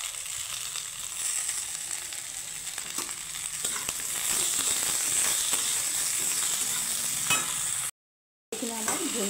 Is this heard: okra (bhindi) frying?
yes